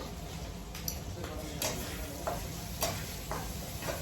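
Food stir-fries quietly in a pan, a soft sizzle under regular clicks and taps of a spatula against the pan, with faint background murmur.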